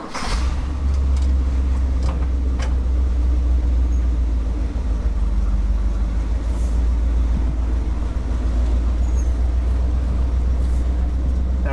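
A 1969 Ford F-350 truck with a 4.56 gear ratio pulls away in second gear, its engine giving a loud, steady low rumble that holds the whole time with only faint rattles on top.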